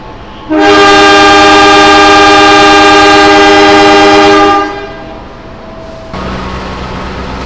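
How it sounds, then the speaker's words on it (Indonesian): A loud, sustained horn blast from an Indonesian passenger train departing Solo Balapan station rings out for about four seconds, then fades into quieter rail and station rumble. "Kereta Mataram memulai perjalanan dari Solo Balapan dengan tujuan akhir stasiun Pasar Senen"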